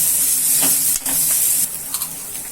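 Fennel seeds and grated coconut sautéing in a pan for raw banana kola balls, a loud, close, hissing sizzle with a few soft stirring scrapes, easing slightly toward the end.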